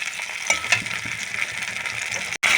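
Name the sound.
frying cashew and tomato paste in a pan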